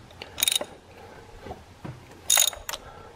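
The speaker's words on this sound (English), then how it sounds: "I've got my spark plug socket, a long extension, and a 3/8 ratchet." A 3/8-inch ratchet with a long extension and 5/8-inch spark plug socket working loose a spark plug on a Jeep Patriot 2.4L engine, giving short bursts of clicking ratchet strokes in separate groups, fairly quiet and close.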